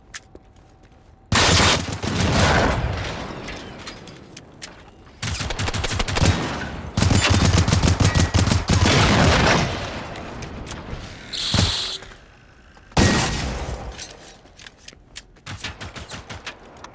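Pistol gunfire in the shooter game Generation Zero, loud bursts of rapid shots in several clusters separated by short quiet gaps, with a lone sharp report in between.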